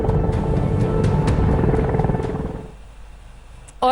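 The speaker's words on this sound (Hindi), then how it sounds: "सबसे पहले बात करेंगे हम अपाचे हेलीकॉप्टर की, जो आपके सामने है" An AH-64 Apache military helicopter at an Indian Air Force forward air base near the China border gives a loud, steady rotor roar that fades over the last second, then a sharp noise cuts in at the very end.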